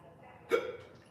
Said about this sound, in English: Frustrating to have the damn hiccups.